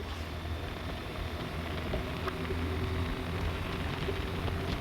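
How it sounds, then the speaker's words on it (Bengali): Strong wind buffets the microphone during a motorbike ride, a constant loud broadband roar that fills the clip with no talking. "প্রচুর বাতাস ভাই, প্রচুর।"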